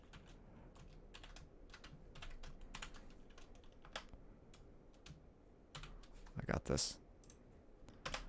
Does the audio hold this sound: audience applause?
no